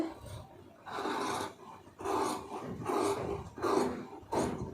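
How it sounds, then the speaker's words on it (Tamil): Scissors cutting through blouse fabric on a tailoring table, a run of about five crisp rasping snips in an uneven rhythm, each lasting under a second, close and clear with no talk. "ஒரு சிசர் கட் போட்டுருங்க"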